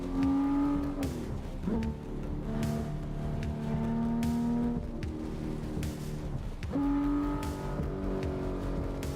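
Engine notes of a car driven in the video game Assetto Corsa rise and fall through repeated gear changes and revving, loud and continuous with brief shifts in pitch, and no voices over it.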